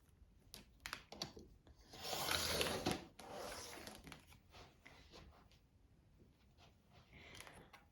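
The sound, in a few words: cutting the edge of quilt fabric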